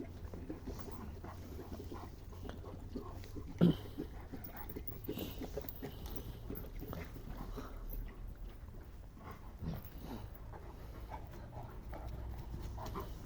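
Dogs moving about outdoors, with faint panting and soft movement over a steady low background rumble and a single brief thump.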